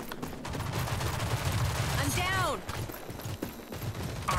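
Rapid gunfire from the video game Rogue Company, dense bursts of shots running throughout, loud and close, with players talking over it.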